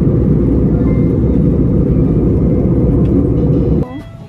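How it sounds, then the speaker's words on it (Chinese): Airplane cabin noise during takeoff on a flight from Guangzhou to Hanoi, a loud, steady low roar and rumble that drops off abruptly near the end, leaving quieter cabin sounds. "飞机现在才开始起飞"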